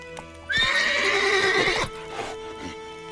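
A horse in the video game The Witcher 3 gives a loud, drawn-out neigh lasting about a second and a half, followed by soft hoof clops and breathy snorts.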